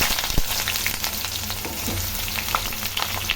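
Onion fries in hot oil in a pan with cinnamon stick, cloves and cardamom, giving a dense continuous sizzle with scattered crackles and pops at close range, without any voices.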